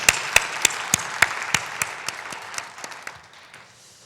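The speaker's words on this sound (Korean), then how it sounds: "다시 한번 우리 영광의 박수 올려드리겠습니다." A church congregation gives a round of applause at a service: a burst of hand claps with strong individual slaps up front that gradually thin and fade out.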